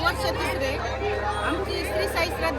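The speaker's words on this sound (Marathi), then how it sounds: "डॉक्टर सुजय विखे पाटील यांच्यासोबत सेल्फी काढण्यासाठी मोठी गर्दी केली होती" A large crowd gathered around MP Sujay Vikhe Patil for selfies during a Shirdi parikrama produces a dense, close hubbub of overlapping voices and chatter with no single clear speaker.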